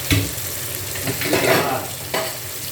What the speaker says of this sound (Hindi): चिकन को भी भूनेंगे इसके साथ